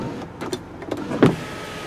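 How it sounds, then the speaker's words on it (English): A power sunroof on a 2003 Ford Explorer Limited opens with a brief electric motor whir and a mechanical clunk near the end, up close inside a quiet cabin. "There's your power sunroof."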